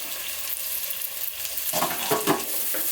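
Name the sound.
onions, tomatoes and curry leaves sautéing in a pan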